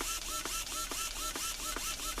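RC servos on a WPL model truck whir back and forth in a quick, regular rhythm of short buzzing sweeps, faint and close, with no voices.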